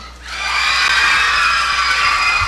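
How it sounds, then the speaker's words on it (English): Boys in an audience cheer loudly, a sustained roar of shouts and whoops that swells quickly and holds steady without letting up. "That's why boys are cheering now. The crowd is getting wilder and wilder."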